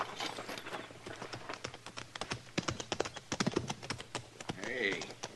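Horses clip-clop toward the listener, a clear uneven run of hoofbeats growing more prominent, while people talk over them and a horse gives a short whinny near the end.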